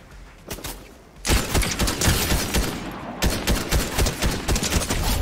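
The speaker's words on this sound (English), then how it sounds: "there's another one shooting me across the lake" Distant gunfire in Fortnite from an enemy shooting across a lake: a short burst of shots, then dense rapid volleys of cracking shots continuing in bursts, loud and without speech.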